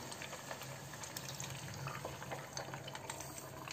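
Rendered meat fat oil trickles and splashes as it is strained and poured into a container, a soft, continuous liquid pouring heard close and faint.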